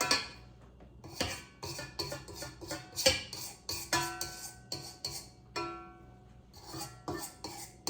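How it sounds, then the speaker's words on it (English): A utensil scrapes and knocks around the sides of a bowl of blueberry muffin batter, making repeated close, rhythmic scraping strokes with clinks against the bowl. "We want to also go ahead and scrape down the sides of the bowl."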